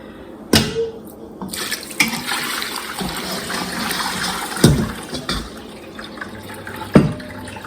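Stock liquid being strained, an uneven watery pouring and trickling with a few sharp clunks of utensils, close by and moderately loud, with no talk.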